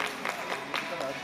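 Audience applause in a hall after a robot knocks out a block in a daruma otoshi stacking challenge, a short burst of dense clapping at steady level.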